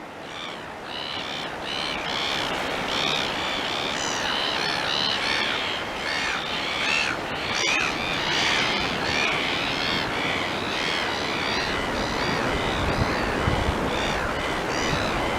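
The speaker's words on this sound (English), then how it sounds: "Seagulls. Everyone's favourite little entrepreneurial scavengers." Seagulls calling at a hazy beach, a dense chorus of overlapping squawks and cries, loud and continuous over a steady wash of surf and wind, with no talking.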